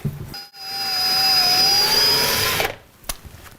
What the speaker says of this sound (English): Let's start drilling holes.